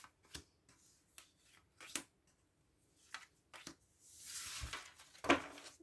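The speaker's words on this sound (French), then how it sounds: "Hop, on va prendre 6 cartes." Tarot cards are shuffled and handled close up, soft flicks, riffles and slides in brief scattered bursts with a longer shuffling rustle near the end, quiet and without speech.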